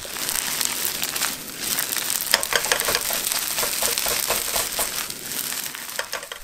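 Egg fried rice with green onion stir-fried in a pan, a continuous close sizzle with repeated scraping and tossing strokes throughout, no talking.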